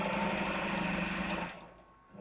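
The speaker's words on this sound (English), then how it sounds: "Separate the collars, no back stitch, edge stitching all the way across that long edge." Sewing machine edge stitching straight along the long edge of a collar without backstitching, a loud, steady close-up whirring hum that slows and fades near the end.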